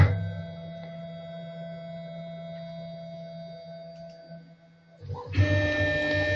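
A stone etching machine whirs at a steady pitch while initializing, then its motor note dips and climbs to a louder, brighter whine as it starts moving, close and with no voices.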